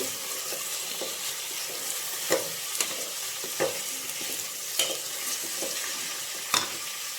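Mushroom biryani masala sizzles steadily in a pressure cooker while being stirred, with a few sharp scraping clicks of the spoon against the pot scattered through the frying.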